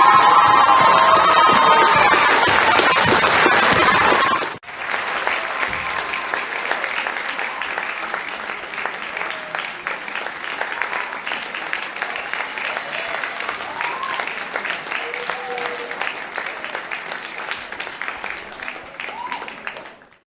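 Crowd applause at a school senior walk and excellence awards ceremony: loud, dense clapping for about four seconds, then a softer, steady scatter of clapping with faint voices and occasional whoops continuing to the end.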